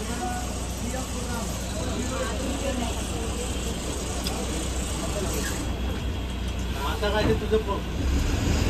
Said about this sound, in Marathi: डेपोतला गाडी निघालेली आहे, ड्रायव्हरचं नाव गाडी नंबर सांगितलेलं आहे.